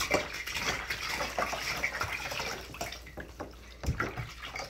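Shower running at home for a puppy bath, a steady hissing spray of water with splashes and small knocks, fairly close and without talk.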